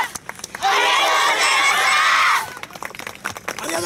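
Crowd applause and cheering swell loud and sustained for about two seconds after a yosakoi dance performance at an outdoor festival stage, then fade to scattered claps and murmurs.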